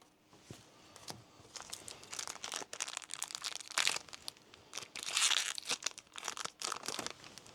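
Gundam trading card packs are torn open up close, giving faint, irregular crinkling and ripping of foil wrappers in short scattered bursts.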